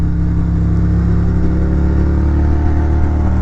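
A Harley-Davidson Road Glide motorcycle being ridden, its engine a loud, steady low rumble with no breaks, heard close and alone throughout.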